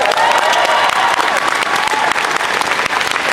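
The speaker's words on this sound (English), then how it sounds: "which I think deserves a round of applause" Audience at a WonderCon 2014 convention panel for Son of Batman breaks into loud, sustained applause, a thick wash of clapping from a large crowd filling the hall without letup.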